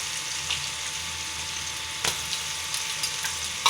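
Spices, turmeric and salt, being mixed into a leftover roti curry sizzling in a pan, a steady frying hiss with a few scraping clicks of the spoon, close and continuous with no talk.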